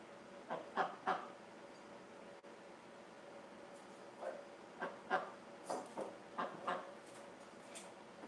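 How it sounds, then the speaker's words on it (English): Soft quacking calls come in short clusters of two or three, fairly faint, separated by quiet pauses over a low background hum. "Come here, little duck."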